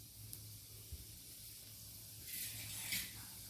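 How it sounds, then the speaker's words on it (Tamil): Chopped onions going into hot oil with spluttering fennel seeds, a faint soft hiss that swells briefly near the end, heard alone and quietly. "இப்போ சோம்பு நல்லா பொரிஞ்சதும் நம்ம கட் பண்ணி வச்சுருக்க வெங்காயத்தை ஆட் பண்ணிக்கலாம்"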